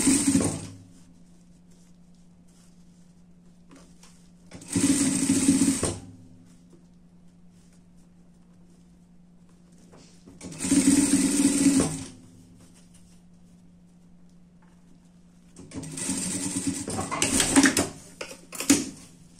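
A sewing machine stitches the shoulder seam of a dress in four separate bursts of rapid whirring, each about a second long, with quiet stretches and a steady low hum between them.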